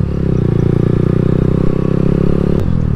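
A Lifan KP Mini motorcycle with a GP shift pattern being ridden, its engine droning steadily and loud close by, with a brief clatter near the end and no talking.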